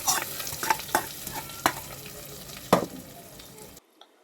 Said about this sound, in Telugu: వెల్లుల్లిపాయ అనేది మంచి స్మెల్ రావడానికి కొంచెం బాగా మనం నూనెలో అలా మెదిపితే బాగుంటుందండి స్మెల్